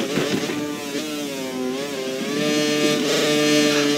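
Racing car engine in a racing video game, driven around Suzuka in Japan, revving high and continuous with its pitch sliding up and down through gear and throttle changes, close and alone with no talk.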